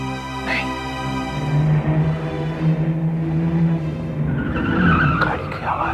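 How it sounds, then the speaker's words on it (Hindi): Car engine revving with tyres skidding on a road during a crime drama scene, a sustained engine tone rising into a loud screech near the end, with a faint voice underneath. "गाड़ी की आवाज।"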